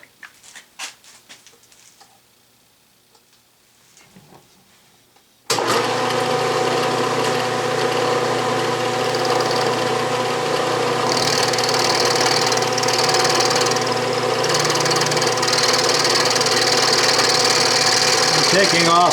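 A milling machine takes a light cut of about ten thousandths across a surface of a Stuart steam engine part. After a quiet, faint stretch it starts abruptly and runs steadily, loud and close, with a whining, buzzing grind.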